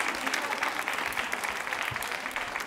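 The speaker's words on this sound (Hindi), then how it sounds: "तालियां जोरों से बजाइए सर." Steady applause from an audience at a women's group quiz show, dense continuous clapping throughout at even loudness.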